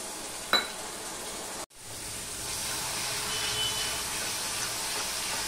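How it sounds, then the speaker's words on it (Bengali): Water added to a pan of cooking spice masala with cumin and coriander powder brings up a steady, close sizzle and hiss after a brief sharp sound and a short drop, continuing evenly to the end. "মশলাটা কষানোর জন্য একটু জল দিয়ে দিলাম।"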